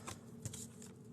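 A deck of tarot-style reading cards is shuffled by hand in a quiet room, giving soft, close riffling bursts that come and go over a second.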